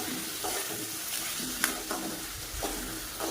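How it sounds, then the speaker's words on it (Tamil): Tomato chutney ingredients with garlic and coriander leaves being sautéed in a pan, a steady soft sizzle with occasional louder scrapes and clinks of stirring, close and continuous with no talk. "இப்போ இது எல்லாத்தையுமே நல்லா வதக்கிக்கோங்க."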